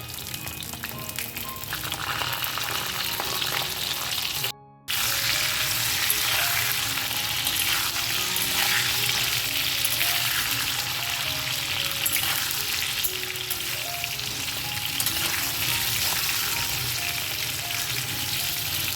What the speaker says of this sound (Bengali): পটলটা ভাজা হতে হতে আমরা অন্যান্য জিনিসগুলো তৈরি করে নেবো